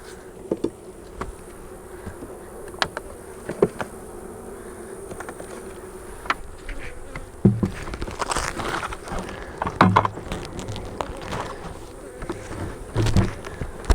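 Honey bees buzz continuously near a hive and a syrup feeder, with individual bees droning past the microphone in louder swells alongside occasional light clicks and taps.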